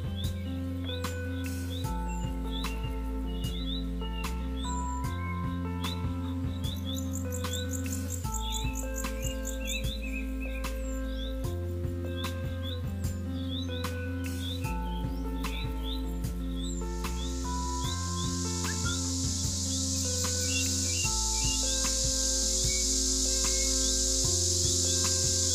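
Cicadas in locust trees set up a shrill, steady buzzing that swells in over the last few seconds, heard beneath a continuous instrumental melody.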